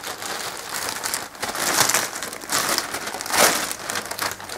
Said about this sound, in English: So I open the bag.